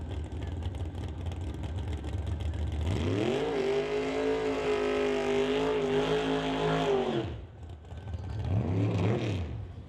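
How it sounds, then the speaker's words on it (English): A 1967 Chevelle door-slammer drag car roars through a sustained high-revving burnout, loud and close, the engine note holding steady before cutting off and then briefly revving again near the end. "See Powell doing a little bit shorter burnout than Ritchie"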